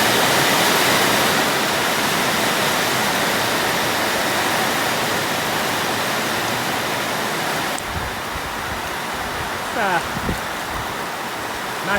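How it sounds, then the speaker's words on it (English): Heavy rain pours on a barn roof during a thunderstorm, a loud, dense, continuous roar of drumming water heard from inside, with a brief voice in the last seconds. "Oh, it's raining hard now."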